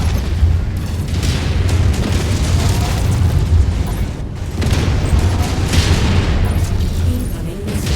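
Missile explosions in the video game MechWarrior 5: Mercenaries, heavy rumbling booms and bursts that roll on continuously and loudly, layered with a dense wash of battle noise.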